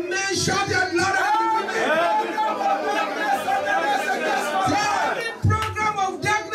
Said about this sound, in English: Let me hear the men shout out louder.